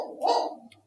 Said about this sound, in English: sorry for my dog barking